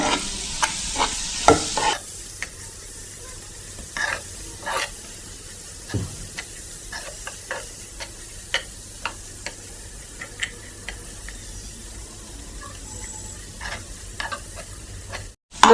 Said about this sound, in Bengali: এটা এইভাবে নেড়ে ছেড়ে আমি পেঁয়াজটা নরম হওয়া পর্যন্ত ভাজবো।